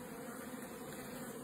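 Honeybees buzz steadily at an open hive, a soft continuous hum heard alone and close, without pauses.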